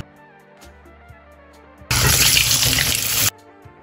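Potatoes drop into hot mustard oil in a wok and set off a sudden loud, hissing sizzle that lasts just over a second and then cuts off, with soft tonal background sound before and after.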